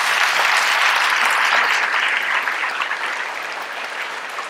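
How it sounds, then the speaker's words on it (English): After a medical research panel discussion on CRISPR, an audience gives a warm round of applause, dense and steady at first, then gradually fading as it dies down. "Hop on a round of applause."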